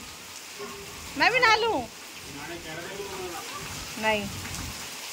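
Rain falling outdoors with a cool breeze, a steady soft hiss of drops running under clear close conversation between voices.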